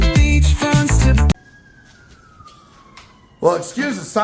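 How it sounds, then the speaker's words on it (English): A single siren wails faintly in the distance during a quiet pause, its pitch sliding slowly downward, with singing and talking before and after. "excuse the siren in the background"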